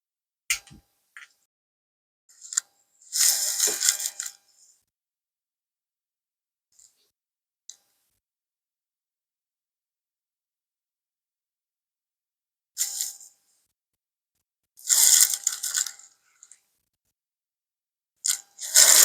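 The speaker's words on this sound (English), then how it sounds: "So let's put the screws in and see what we can do here" Tiny screws driven into the case of a Radioddity QT80 radio, heard as sparse bursts of close clicks and scrapes separated by long quiet gaps, with no talking.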